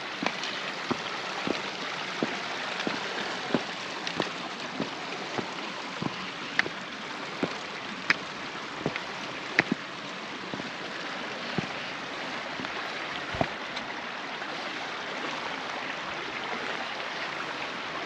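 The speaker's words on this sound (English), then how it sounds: "Can't beat the sound of flowing mountain stream." A mountain stream in Snowdonia flows steadily with a constant rushing wash, dotted with small irregular splashes and drips close by, and no voices.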